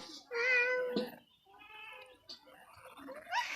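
A cat meows several times up close, with drawn-out, wavering cries and a short pause in the middle, rising again at the end.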